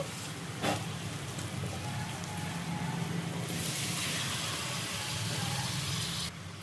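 Tomatoes land in a pan of frying okra, with a brief thump followed by a steady, hissing sizzle that stays close and continuous, and a sharper crackle near the end.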